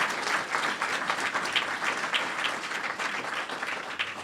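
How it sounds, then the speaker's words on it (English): Steady, even applause from an audience at a public housing smoke-free rule announcement, a continuous patter of many hands at moderate distance. "Let's give Bill and the Boston Housing Authority a round of applause for their good work."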